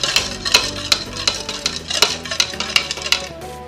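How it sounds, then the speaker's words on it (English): A spoon stirs yeast into half a cup of milk, clinking against the bowl in quick, uneven strokes, close by and bright, with no voices. "I have my ½ cup of milk and I have the 2 tablespoons of yeast, and I'm just gonna stir it around"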